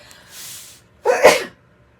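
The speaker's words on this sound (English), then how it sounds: "Oh my goodness, I'm going to sneeze." A single close, loud sneeze from an adult, a sharp burst lasting about half a second, preceded by a soft breathy intake of air.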